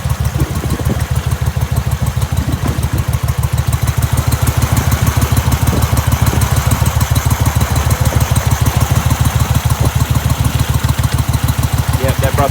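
Mud Buddy dual-carburetor boat engine idling on Caddo Lake, a loud, close, steady rhythmic chugging with fast even pulses throughout, with voices briefly audible.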